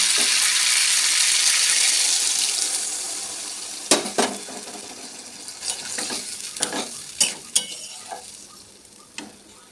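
Water poured into a hot pan of spice-fried potatoes and drumstick pieces hisses in a loud broadband burst, then dies down to scattered sharp pops and crackles, with no talking.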